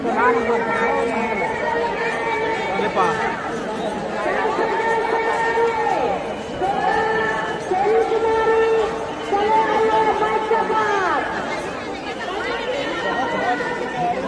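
A huge crowd mills about at the Sangam during the 2025 Maha Kumbh Mela in Uttar Pradesh, a loud, close wall of overlapping voices and chatter that continues without a break, with someone talking over it.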